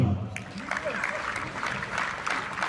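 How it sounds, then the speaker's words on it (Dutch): Warm applause from an audience at the opening of a new tennis park with padel courts, steady clapping that carries on throughout at moderate distance. "daar wil ik nog even een hartelijk applaus"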